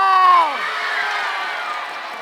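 A campfire audience at a summer camp's opening night claps and cheers, a broad sustained roar of many people close by that starts right after a single voice stops and holds steady for about two seconds.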